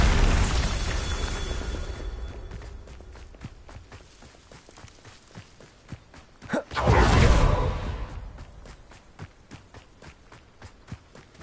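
A Bombarda explosion spell in the video game Hogwarts Legacy: a sudden loud blast with a brief whooshing rumble midway, among steady footstep-like taps and ambient game sounds.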